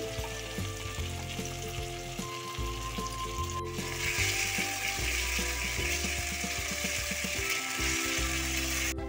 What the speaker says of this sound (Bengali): দুটো লঙ্কা ফোড়ন দিয়ে দিলাম, একটু জিরে ফোড়ন দিলাম, আদা রসুন পেস্ট করাটা আমি দিয়ে দিচ্ছি।